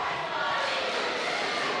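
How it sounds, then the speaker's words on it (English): A crowd at a Crossfire championship game cheers and shouts in a dense, continuous roar that stays loud throughout. "The crowd really into this game"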